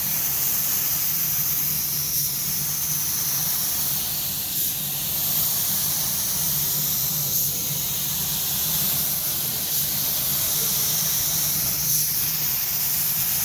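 A paint spray gun spraying filler primer onto a car body, a loud, close, continuous hiss of air and atomized paint with slight surges roughly every couple of seconds as the gun sweeps across the panel.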